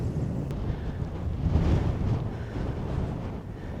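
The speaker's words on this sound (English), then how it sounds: "It's windy" Strong wind buffets the microphone in a steady low rumble in open New Zealand hunting country near sundown, swelling and easing slightly with the gusts, with no other sounds.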